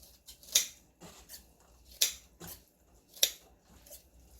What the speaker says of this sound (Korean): 가위로 이렇게 먹기 좋을 만큼 송송송 썰어주세요